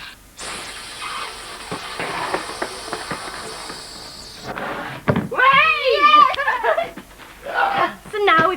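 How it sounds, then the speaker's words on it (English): A train slowing down, with a long hiss of released air, clanks and scattered knocks as it comes to a stop, followed by lively voices and laughter. "And now the train's slowing down again."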